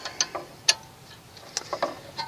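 A wrench loosens the brake bleeder nipple on a 9th-generation Honda Accord, giving a series of sharp, close, metallic ratcheting ticks spaced unevenly over a couple of seconds.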